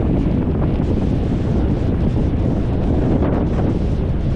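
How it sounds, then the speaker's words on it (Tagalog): Strong, continuous wind on a beach during a storm, roaring and buffeting the microphone, steady and loud throughout with no voices. "Malakas ang hangin."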